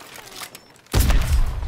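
An exploding crossbow bolt from the video game Battlefield 2042 sets off a sudden loud, deep boom after near-quiet, with a rumbling tail that carries on to the end.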